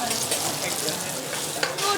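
Pork belly sizzles in a hot pan in a busy restaurant kitchen, a steady close crackling hiss with small pops throughout.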